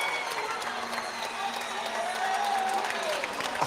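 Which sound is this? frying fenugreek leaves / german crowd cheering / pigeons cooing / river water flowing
german crowd cheering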